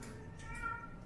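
Small kittens or young cats meow softly in a quiet indoor setting, a short faint mewing call standing out from low background hum.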